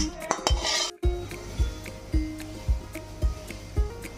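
Softened lote fish poured from a metal pan into a dish, a sharp clatter of cookware followed by a series of close, evenly spaced clinks and knocks of a utensil against metal, with no talking.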